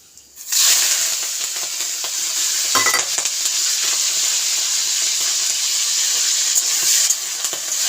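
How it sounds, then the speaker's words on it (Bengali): Prawns hit a pan with crushed garlic, bursting into a loud, continuous sizzle that holds steady for several seconds, with a brief clatter of stirring partway through and no talking. "এবার আমি দিয়ে দেবো চিংড়ি মাছটা।"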